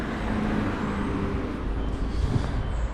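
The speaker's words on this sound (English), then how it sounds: "Some cars driving through." Cars rolling along a quiet Chinatown street in San Francisco on a Sunday afternoon, a steady low traffic rumble with a vehicle swelling nearer toward the end, heard from the sidewalk.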